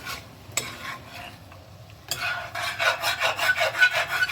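Utensil scraping across the bottom of a pan while stir-frying sesame teriyaki shrimp, a near rhythmic rasping that starts with a few scattered scrapes and turns into quick, regular strokes over a faint sizzle.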